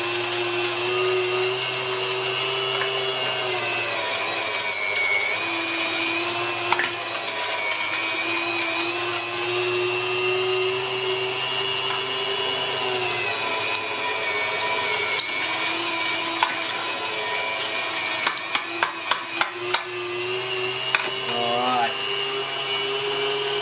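A KitchenAid stand mixer with a mincer attachment runs steadily, grinding meat pushed down with a plunger, a constant close motor whine and hum with a few brief clicks and knocks near the end.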